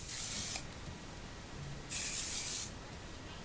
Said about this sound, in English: I finish off with some Aquage Beyond Shine spray.